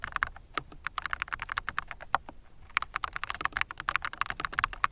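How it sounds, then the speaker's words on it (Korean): Rapid keystrokes on a plastic gaming keyboard with internal reinforcement plate and layered dampening foam, crisp clacky taps in quick uneven bursts with a brief pause near the middle, recorded close up. "보글보글거리는 타건음과 통올림은 정말 잘 잡혀 있습니다."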